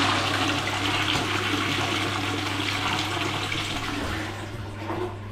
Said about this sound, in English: I am just flushing through, making sure that the rest of that